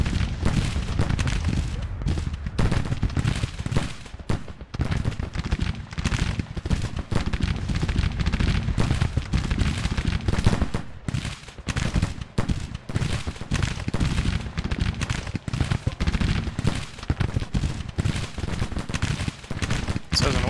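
Civil War musket volleys crackle in the Grand Tactician battle at Alexandria, a dense, continuous rattle of distant rifle fire with occasional heavier booms, steady and unbroken throughout.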